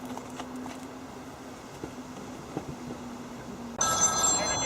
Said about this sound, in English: Oh, typical, he's got a phone call now.